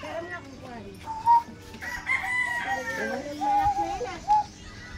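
A gamecock rooster with nine wins crows at close range, its long wavering calls rising over a background of people talking and farmyard clucking.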